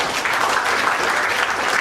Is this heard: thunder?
no